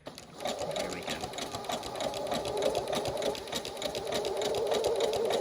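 A sewing machine runs at a slow setting, stitching repeatedly over the same spot of vintage quilt fabric with a steady, close mechanical whir and rapid ticking that builds slightly louder.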